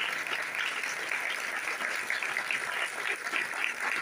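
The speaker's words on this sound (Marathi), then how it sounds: "सर्वांनी जोरदार टाळ्या वाजवायच्या आहेत" A crowd at a Shiv Mahapuran recitation with blind children present gives a dense, sustained round of applause, steady and fairly close.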